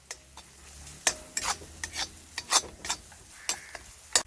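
Pepper chicken being sautéed in a pan gives a quiet run of scraping stirs and spatula knocks over a faint sizzle, with irregular strokes spaced through the stretch.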